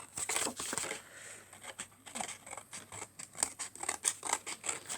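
Scissors snipping around a small handmade Christmas decoration, a run of quick close crisp cuts with faint paper rustling, quiet and without talk.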